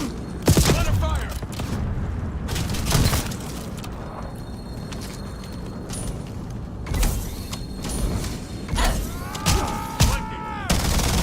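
Video game gunfire crackles in repeated bursts and single shots across about eleven seconds, loud and close, mixed with mechanical clanks and a creaking sound, while a voice talks over parts of the action.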